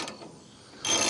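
Ratcheting tension handle on a Mechmaxx 36 sawmill's blade tensioner, tightened in a couple of close, mechanical clicks with a brighter burst of metallic noise near the end.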